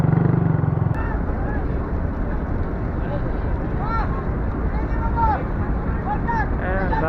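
The Peña Francia ferry crossing to Allen gives a loud, steady rumbling engine drone with gusting wind buffeting the microphone, and faint high chirping sounds rise and fall throughout.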